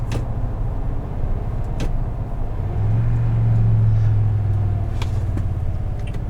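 A 2021 Toyota Tundra TRD Pro CrewMax in sport mode, heard from the cabin as a deep, steady engine rumble that swells louder midway through acceleration, with a few faint clicks and no talk.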